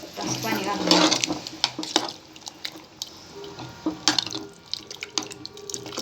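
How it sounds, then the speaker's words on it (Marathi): Water is poured into a pan of khichdi being cooked, a running splash with brief drips and light clinks of the pot, close by in a home kitchen. "मस्त असं पाणी घालून घ्यायचं।"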